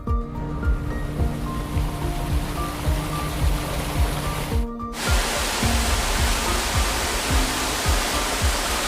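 A powerful river waterfall in Switzerland roars in a dense, continuous rush of water, loud and steady, following a quieter stretch with low rumbling engine-like hum.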